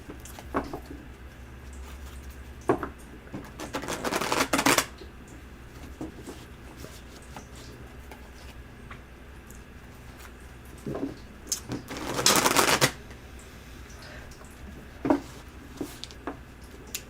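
Tarot cards are shuffled in two brisk riffling bursts a few seconds apart, with scattered soft taps and handling noises in between, close and without talk.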